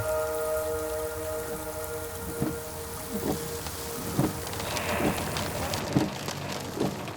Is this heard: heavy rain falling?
yes